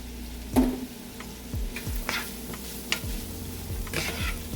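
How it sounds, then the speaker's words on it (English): Mushrooms sauté in a pan with garlic and onion, giving a soft, steady sizzle. Stirring scrapes and knocks repeat every second or so, close up and with no talk. "And let that saute nicely."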